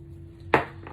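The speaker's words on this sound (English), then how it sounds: "Go ahead and spray that down." A single quick spritz of setting spray onto a makeup brush, short and close, standing out against a quiet background hum.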